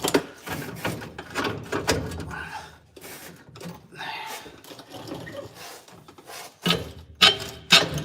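A Chevrolet T5 manual transmission sliding into place on a truck, with rubbing and scraping metal-on-metal shifts and knocks, close up, with people talking intermittently.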